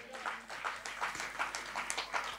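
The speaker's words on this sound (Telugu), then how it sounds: "మళ్ళీ చప్పట్లు కొడదాం" A church congregation claps quietly in the distance, a soft, rhythmic patter of many hands with faint room echo.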